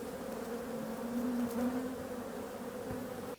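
Honey bees confined in a box at a beekeeping yard drone in a steady, dense, fairly faint buzz that holds evenly throughout.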